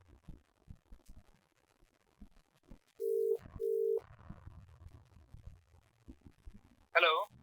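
A phone call being redialed produces two short, steady ringback tones in quick succession, clear and close. Faint voices and handling noise come before and after, and a brief warbling electronic tone follows near the end.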